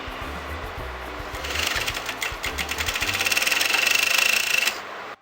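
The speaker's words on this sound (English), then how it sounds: "I'm going to sew at the exact point of that 1 centimeter" A sewing machine stitches along a 1 cm pin tuck in fabric with contrasting thread, starting after a quiet moment and then running as a steady rapid whirring clatter for about three seconds before it stops.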